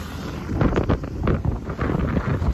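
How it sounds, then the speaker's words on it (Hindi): Strong wind buffeting the microphone on a motorbike ride near Nadrai Bridge in Kasganj, a loud continuous roaring gust noise with uneven surges and no talk. "हवा चल रही है, बहुत ज्यादा हवा चल रही है यार।"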